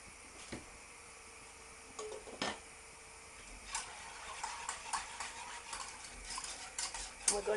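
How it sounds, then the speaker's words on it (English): A whisk stirs milk into a sauce in a pan, making faint, steady scraping and light metallic ticks against the pan with occasional sharper clinks. "Just keep whisking"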